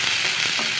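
Chopped onions fry in hot oil in a kadhai, giving a steady bright sizzle with faint stirring scrapes, close and continuous.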